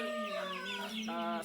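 Brimob chickens in a coop make close, steady, tonal clucking calls that overlap one another.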